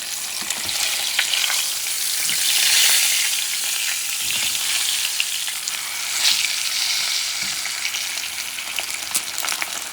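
Floured pompano fish fries in a pan, giving a steady, loud, close sizzle and crackle that runs unbroken throughout, with slight swells and no voices.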